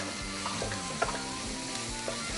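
Garlic frying in butter in a pan gives a steady, even sizzle throughout, with a few faint clicks and scrapes of stirring and no voices.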